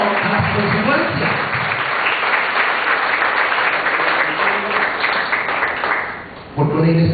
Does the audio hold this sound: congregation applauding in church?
yes